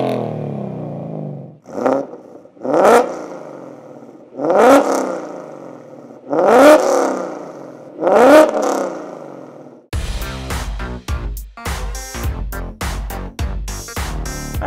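A 2016 Ford Mustang GT with a 304 stainless exhaust and double helix X-pipe revs loudly, blipping five times in rising and falling bursts. The revs then give way to a dense, rapid, rhythmic stretch in the final seconds.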